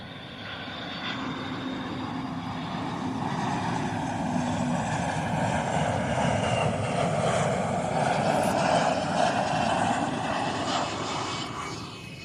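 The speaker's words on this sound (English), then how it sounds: "Good old KC-135. Gotta love the venerable KC-135." A KC-135 military tanker aircraft passes overhead at Davis-Monthan Air Force Base, its engine roar building to a sustained broad rumble over several seconds before fading slightly, with no talking.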